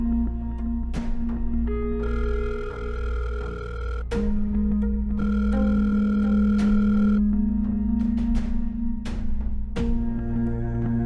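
A phone call rings out unanswered, repeated electronic ringback tones in a steady on-off pattern, with sustained tonal bursts recurring every couple of seconds over a low hum.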